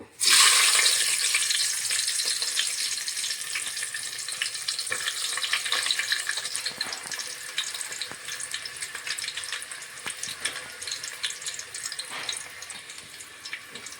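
Onions fry in a pan for veg biryani with a loud, steady close sizzle that starts abruptly and holds throughout, dotted with small crackles and stirring clicks.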